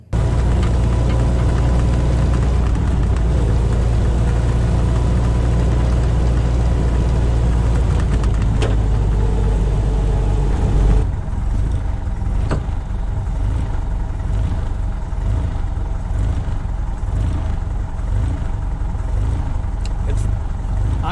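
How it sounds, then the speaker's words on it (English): A 1948 Willys Jeep engine idles with a loud, steady low rumble and a rough, uneven throb. The tone shifts partway through as the engine keeps running, and voices are heard over it. "Idling like a race car."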